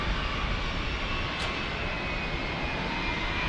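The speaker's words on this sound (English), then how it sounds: "Our first landing of the broadcast here. Alaska Airlines on a MAX." Alaska Airlines Boeing 737 MAX jet landing at San Diego airport, a loud, steady roar of jet engines heard from nearby without any talk.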